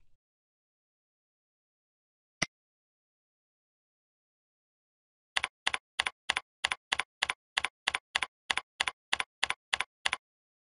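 Typing an account name on a computer keyboard, heard as one isolated key click followed by a quick, even run of about fifteen crisp, close keystrokes in a quiet room.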